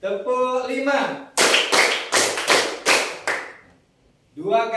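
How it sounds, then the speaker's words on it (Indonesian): After a short stretch of talk, a group claps five times in an ice-breaking clapping game, sharp, loud and closely spaced, then talking resumes. "Tepuk 5"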